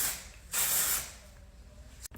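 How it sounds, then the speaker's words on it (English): Dry Volume Burst dry shampoo sprays into hair in one bright half-second hiss, followed by quieter handling sounds and a small click near the end. "I'm gonna spray some of this Dry Volume Burst all through it."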